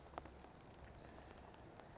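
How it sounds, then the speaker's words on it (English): Light rain falls steadily outdoors on a ranch during hay feeding, a soft, even patter with a few sharper drops, fairly quiet and continuous with no talking. "Starting to get a little rain, ain't it?"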